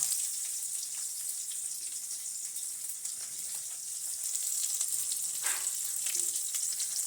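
Onion and green chili frying in hot oil in a home Bengali kitchen, a steady loud sizzle throughout with a few brief clinks and stirring noises, no talking.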